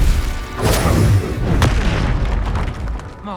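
Explosions from the Confringo fire spell in the Hogwarts Legacy video game, loud, close booms with sharp bursts and rumbling tails amid the continuing din of combat.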